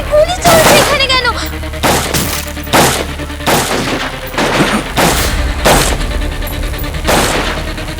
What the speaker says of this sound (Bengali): আরে গুলি চলছে এখানে কেন?